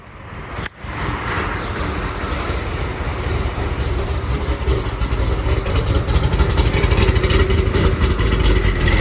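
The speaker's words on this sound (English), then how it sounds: "It's idling pretty good." A Doug Rippie Motorsports C4 Corvette with an LT1 V8 idles cold in open loop, its check engine light on. The engine holds a steady, rough, loud mechanical rumble throughout, with one sharp click near the start.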